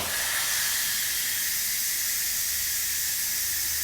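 Steam hisses steadily from a pot of freshly cooked potatoes being drained for mashing, a continuous bright rushing sound that holds at the same loudness from start to finish with no voices over it.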